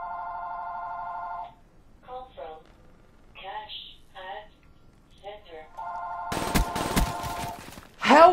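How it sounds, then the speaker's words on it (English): An old-style telephone rings in Call of Duty: Black Ops III, with loud electronic ring bursts at the start and again near the end, separated by clipped game voices and a sharp burst of gunfire-like noise. "And there's a phone call."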